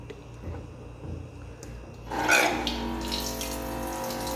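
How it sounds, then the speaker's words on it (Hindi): Water is poured in to refill a kitchen tower dispenser, starting as a sudden gushing splash about halfway through, then settling into a steady close flow after a quiet stretch with faint clicks. "अंदर पानी नहीं है सो हम यहाँ से रिफिल करते हैं."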